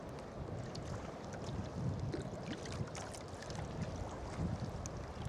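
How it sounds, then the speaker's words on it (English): Gusting wind howls and buffets steadily during sea kayaking off the Irish coast near Slieve League, with constant broadband roar, wind noise on the microphone and faint water sounds beneath. "The wind, it just comes and gusts and it's howling."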